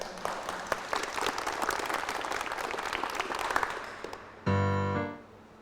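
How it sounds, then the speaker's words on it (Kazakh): Audience applause at a Kazakh-language company evening presentation for engineers, a steady crowd clapping that runs for several seconds before fading, then a brief burst of sustained, different-textured noise at the end. "Заводымызға да қол шапалақтап қояйық."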